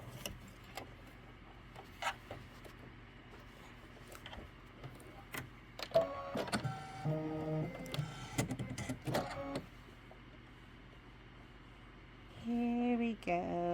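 A sewing machine stitches a Kimberbell June mini quilt, giving off intermittent mechanical whirring and ticking with a few louder knocks in the middle and a steadier motor hum near the end, recorded up close.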